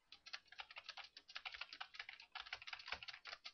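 Quick, irregular clicks of typing on a computer keyboard come in fast bursts. The keystrokes are close but quiet, with no voices.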